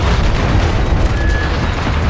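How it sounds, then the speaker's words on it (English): A mortar strike lands in a video game as a loud, sustained low boom and rumble, filling the whole short moment with heavy, close blast noise. "dude, dropping fucking mortars"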